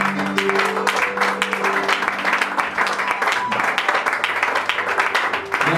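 Worshippers in a church clap together in a continuous, crowded burst of applause, with held instrumental notes and some voices mixed in beneath the clapping.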